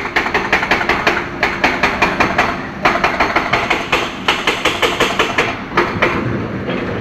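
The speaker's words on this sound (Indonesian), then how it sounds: "kita dengar berapa bisik dan kuatnya suara mesin eskavator tengah bekerja pada siang hari ini" An excavator works on road repair in the Lembah Anai valley, West Sumatera, a week after a devastating flash flood, giving off a loud, continuous mechanical clatter of rapid rhythmic knocks and bangs that pause briefly and resume, with no talking.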